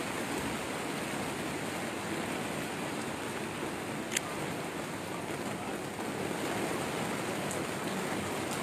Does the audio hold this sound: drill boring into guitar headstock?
no